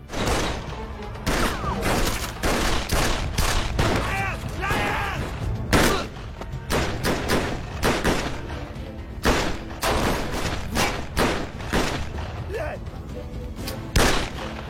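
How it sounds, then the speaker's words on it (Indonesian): Gunfight in a gangster film, with dense bursts of gunfire and impacts over a constant loud action soundtrack, with some voices mixed in. "yang membuat adu tembak pun terjadi di sana"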